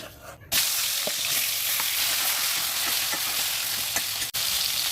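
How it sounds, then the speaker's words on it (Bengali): Silver carp fish goes into hot mustard oil in a wok and at once bursts into a loud, close, continuous sizzle that holds steady, broken only by a short dip near the end. "তেলটা গরম হয়ে গেছে এখন আমি মাছগুলোকে এক একে দিয়ে দিচ্ছি"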